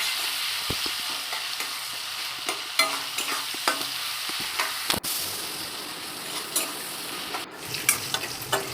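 Duck skin pieces crackle and sizzle in a wok, with repeated clinks and scrapes of a spatula stirring them, close and steady with no talking.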